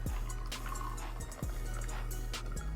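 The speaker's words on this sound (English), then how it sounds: "So you'll go and pour 3 ounces in that." Liquid for absinthe is poured into a glass to measure three ounces, a soft trickle and splash heard close up with a few small clinks, no talking.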